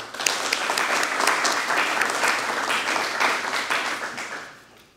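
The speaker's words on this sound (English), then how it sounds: "Give those instructors a round of applause." Audience applause at a deputy transfer academy graduation ceremony: a dense, sustained burst of many hands clapping together, steady and fairly loud before tapering off near the end.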